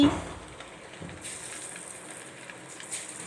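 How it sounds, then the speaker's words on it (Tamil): A taro root chilli mixture deep-fries in hot oil with a soft, steady sizzling hiss throughout, close and fairly quiet, with a light clink at the start. "நம்ம மிக்ஸ் பண்ணி வச்சுருக்கிறத ஆயிலில் போட்டு டீப் ஃப்ரை பண்ணால் நம்மளோட சேப்பங்கிழங்கு சில்லி ரெடி"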